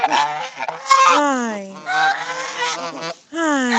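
A pet goose honks loudly and close by, in long, strained, wavering calls with brief pauses between them, the sound dominating the scene.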